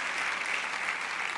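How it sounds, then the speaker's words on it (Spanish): Steady, dense applause from a church congregation fills the space evenly from start to finish, moderately loud with no pauses or voices rising above it. "¿Cuántos le dan un aplauso al Señor?"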